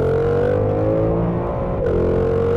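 A 2020 Ford Mustang Shelby GT500 with a DCT gearbox accelerates at full throttle on a hot lap, its engine a loud, sustained roar climbing steadily in pitch before a sharp gear change and renewed pull, heard from inside the car.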